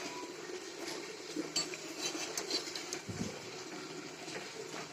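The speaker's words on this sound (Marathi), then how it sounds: "परत असं मिक्स करायचं" Spiced bread batter being mixed in a bowl with a spoon, giving soft steady scraping and clinking of utensil against the bowl, with no talking.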